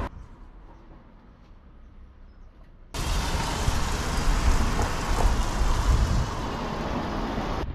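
A quick rainstorm sets in, a faint quiet patter suddenly swelling into a loud, dense hiss of heavy rain that continues steadily.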